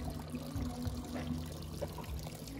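A small decorative waterfall inside a restaurant pours and trickles steadily, a faint, continuous splashing and running water sound with no talking.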